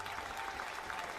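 Faint, steady crowd noise from a college baseball stadium during Georgia Tech versus Oklahoma, fans cheering and clapping continuously in the background, distant and even throughout.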